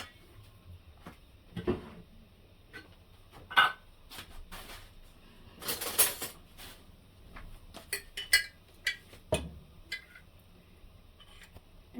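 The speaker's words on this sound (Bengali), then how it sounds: "এখন এটা সুন্দর করে দুধের সঙ্গে আমি মিলাই দেবো এই ছানাটাকে" A spoon mixes chhana with milk and ghee in a pan for gur sandesh, giving scattered metallic clinks and scrapes at irregular intervals, some sharp and close, over near silence with no talk.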